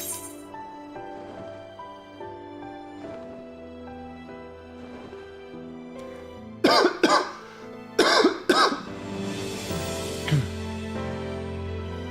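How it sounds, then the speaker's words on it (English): A short burst of several harsh coughs in close succession, loud and near, over a quiet musical background. "Just a stupid cough."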